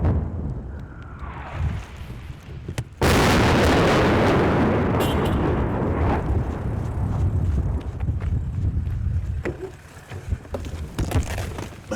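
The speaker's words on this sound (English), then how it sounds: "that explosion was nearby" Artillery shell explosion close by on the Donbas frontline: a rising whistle, then a sudden loud blast whose roar and rumbling debris linger for several seconds before faint aftershocks.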